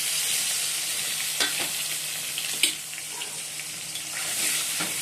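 Garlic, chilli and fried onion frying in ghee, a steady close sizzle broken by a few sharp stirring scrapes and clinks.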